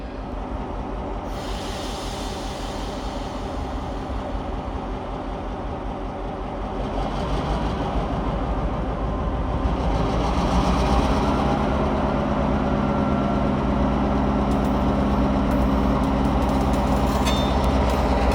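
EMD high hood diesel locomotive running on a cold, snowy day, a loud continuous rumbling engine drone with hiss, swelling and growing heavier partway through as it works, no talking.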